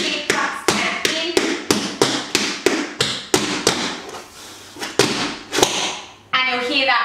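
Rapid tap dance footwork on a hard floor, a steady run of sharp metallic taps and stamps in a quick rhythm, close and crisp.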